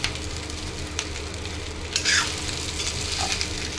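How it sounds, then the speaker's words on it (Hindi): Onion and chili frying in a tempering of mustard seeds and curry leaves, making a continuous close sizzle with light stirring scrapes on top. "सरसों कड़ी पत्ता पहले डाले और उसके बाद में प्याज और मिर्च से इसको ना फ्राई कर दिए"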